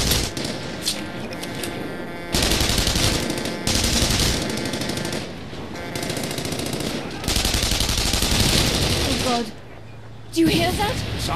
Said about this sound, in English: Sounds like a fucking tank.